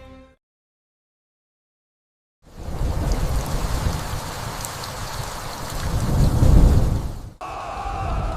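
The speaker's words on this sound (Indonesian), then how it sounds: "Malam itu, hujan turun membasahi tanah." Steady rain falls in a dense, noisy wash after a brief quiet opening, swelling briefly with a low rumble before a sudden drop near the end.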